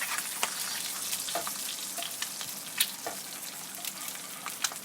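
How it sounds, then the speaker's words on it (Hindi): Eggs fry for a half-fry egg breakfast with bread, giving a steady soft sizzle with scattered small crackles and pops, fairly close, without talk. "यहाँ पर नीचे से हमारे एग जो है अच्छे तरीके से पक रहे हैं"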